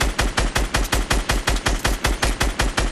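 Rapid automatic gunfire in Fortnite, a steady stream of about fifteen sharp, evenly spaced shots over three seconds, loud and close with no talking over it.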